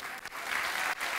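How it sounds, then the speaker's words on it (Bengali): A church congregation at a Bengali sermon claps for the Lord, a brief burst of dense, even applause from many hands, heard at moderate level. "জোরে একবার প্রভুর জন্য করতালি দিই।"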